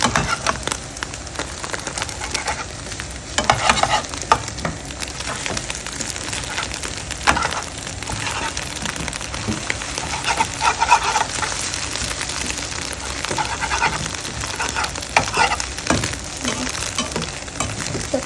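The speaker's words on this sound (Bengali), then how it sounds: "পেঁয়াজ আর রসুনটা আমি খুব সুন্দর করে ভেজে নিচ্ছি" Chopped onion and garlic fry steadily in hot oil in a pan, a dense, continuous close-up sizzle with occasional stirring scrapes and no voices.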